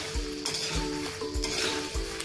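Whole dried red chillies dry-roasting in a kadhai for UP-style sirka, with rhythmic stirring scrapes against the metal over a soft sizzle, close and without speech.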